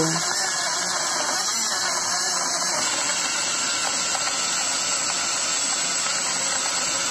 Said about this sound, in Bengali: এখন আমি ঢাকনা দিয়ে ঢেকে জুসারের সুইচ অন করে দিব